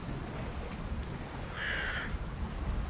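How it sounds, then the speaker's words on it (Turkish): A raven in the Vikings: Wolves of Midgard video game gives one harsh, rasping caw partway through, set against a steady bed of ambient game noise. "Ah bu kargacık da var ya, kuzguncuk daha doğrusu."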